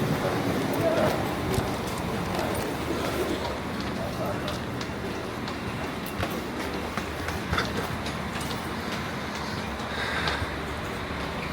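A German regional express train pulls into a station platform, its steady rumble and clatter of rolling cars filling the scene, with people talking over it.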